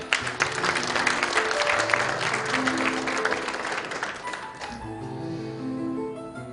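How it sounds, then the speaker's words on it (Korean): A crowd at an inauguration ceremony claps steadily for several seconds, then the applause fades out, leaving soft background music. "여러분 뜨거운 박수 부탁드리겠습니다"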